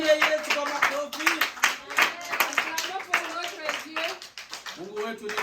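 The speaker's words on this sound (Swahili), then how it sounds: "Tumshangilie Yesu kwa makofi." Congregation at a Sunday church service clapping for Jesus, with brisk rhythmic hand claps under ongoing speech and singing voices.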